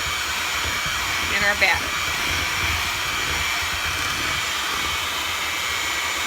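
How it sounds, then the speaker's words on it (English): An electric hand mixer whirs steadily and loudly while mixing Andes mint chocolate cookie batter until no flour streaks remain. The drone is continuous and close, and a voice speaks briefly over it. "I will use my electric mixer for this part"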